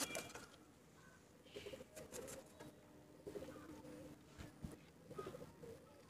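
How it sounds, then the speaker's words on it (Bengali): Bengal pigeons in a loft give soft, low cooing calls in scattered bursts, fairly faint against a quiet background with a little rustling. "এটা হচ্ছে মাদি পায়রা, এটা হচ্ছে টোটাল পায়রা"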